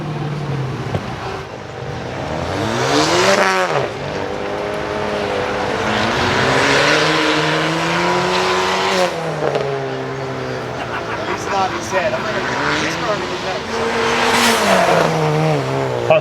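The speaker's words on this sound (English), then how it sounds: "Accelerating down the straightaway for the final time through the curves." Race car at the Carlisle Ford Nationals accelerating down a track straightaway, engine pitch rising and falling through repeated gear changes, loud and close, with some tire noise and a voice faintly underneath.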